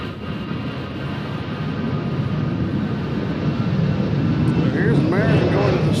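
American Airlines jet airliner at Nashville International Airport, its engine roar swelling steadily louder and closer, with a rising whine near the end and a voice talking over it.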